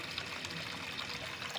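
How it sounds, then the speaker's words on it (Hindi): Water being poured into a cooking pot for boiling rice, a steady continuous trickling stream at moderate distance, with no talking over it. "ये इतना सा ही हम इसके अंदर पानी ऐड करेंगे।"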